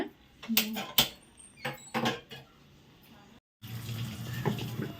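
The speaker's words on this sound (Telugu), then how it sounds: "నీళ్ళు పెడుతున్నారు సాయి గారు నీళ్ళు పెడుతున్నారు" Tap water runs into vessels in a village home, first in splashy bursts, then in a steady gush after a brief pause, with people talking nearby.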